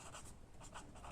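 A pen or chalk writes by hand during a science lesson, making faint, soft repeated strokes with no voice over them.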